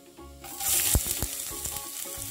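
Chopped ginger goes into hot oil with mustard seeds and sets off a sudden burst of loud sizzling. It then settles into steady frying, broken by a few sharp pops and stirring clatters, with no voices.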